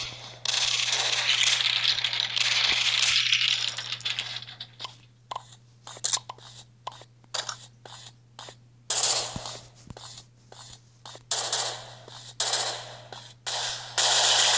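Rapid gunfire from a new gun in a video game, with a sustained burst of shots followed by a string of short, sharp volleys and pauses, loud and close over a steady low hum.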